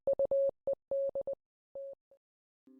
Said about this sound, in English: Morse code begins playing.